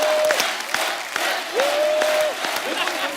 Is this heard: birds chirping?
no